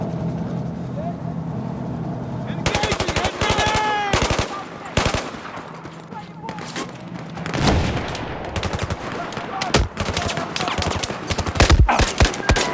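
Battlefield 4 gunfire during the Baku mission, rapid machine-gun bursts and single shots that are loud and close, mixed with engine noise and spoken voices.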